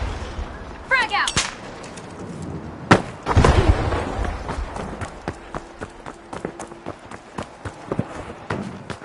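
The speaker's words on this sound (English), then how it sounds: "Frag grenade out." A frag grenade blast and gunfire in the shooter game The Finals: sharp shots crack early, a loud heavy explosion hits around the middle, then a rapid string of lighter gun pops and clatter continues.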